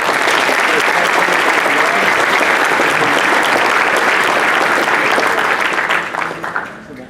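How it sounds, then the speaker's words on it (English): An awards ceremony audience breaks into loud, dense, continuous applause that holds for about six seconds before tapering off. "We can give them applause for that."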